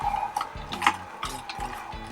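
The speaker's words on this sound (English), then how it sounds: "This juicer does have less space, tighter tolerances between the auger and the screen." Slow juicer auger in a Hurom Elite or Slowstar crushing fruit and vegetables, a close rhythmic grinding and ratcheting with repeated creaking clicks and squeaks in uneven pulses.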